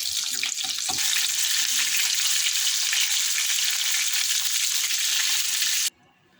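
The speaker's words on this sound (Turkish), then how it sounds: "Bana çiğ böreklerimiz pişiyor." Cabbage çiğ börek pastries fry in a pan with a steady, loud oil sizzle throughout. A few soft clatters come near the start, and the frying cuts off abruptly at the end.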